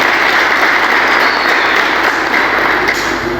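Warm applause at a Braille Day celebration in Wolayita Sodo honoring the Ethiopian National Association of the Blind, a loud, sustained wash of many hands clapping without pause.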